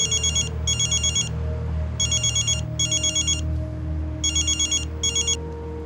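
A telephone rings with a bright electronic ringtone in six short bursts, spaced by brief pauses over a low indoor hum, close and clear with no talking.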